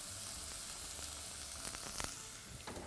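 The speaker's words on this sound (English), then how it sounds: "begin by sauteing some onions" Onions sauté in a pan with a soft, continuous sizzle. A few faint stirring clicks sit on top, all quiet and close, with no voices.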